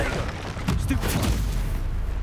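A Stupefy spell cast in Hogwarts Legacy gives a sharp magical burst with a booming, crackling impact over steady game background noise.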